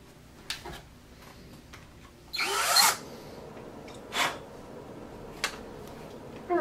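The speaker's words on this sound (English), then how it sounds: "I really hope I'm not drilling into this board." A power drill whirs in short bursts while drilling near an Adafruit NeoTrellis circuit board, one longer run and a few brief ones, with light tapping and handling noises between, close by.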